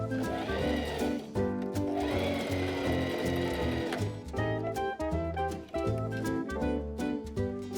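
A sewing machine runs in steady bursts, stitching the elastic casing of a summer dress with a loud, fast mechanical whir that pauses and restarts several times, with no talking over it.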